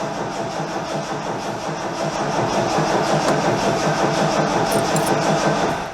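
A Ford Capri MK1 that has sat unused for eight years cranks over steadily on its starter, an even, rhythmic churning that grows slightly louder partway through, heard close with no talking.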